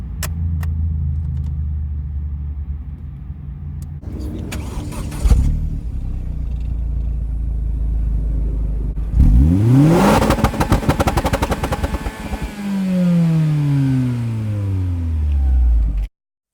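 An Opel Astra OPC engine with a new middle exhaust idles with a deep rumble, then revs hard several times, the exhaust roaring up and crackling before settling back to idle.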